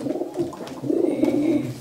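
Racing pigeons cooing close by, a soft low throaty coo repeated in quick rolling pulses, alone without any talk.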